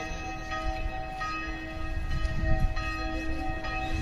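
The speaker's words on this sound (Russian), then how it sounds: "там звонарь колокола бьет" Church bells in Prague, struck by a bell ringer, ring steadily, their sustained metallic tones overlapping in a resonant wash over low outdoor rumble, with several distinct strikes.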